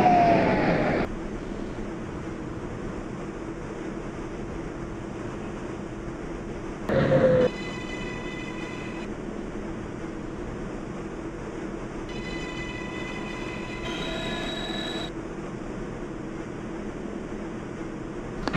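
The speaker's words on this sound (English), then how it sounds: "This is a Manhattan-bound 6 train." A Manhattan-bound 6 local train on the New York subway runs between stations with a steady, loud rumble and hiss of wheels on track. Squeals and clunks come and go, and high tonal whines rise and fall.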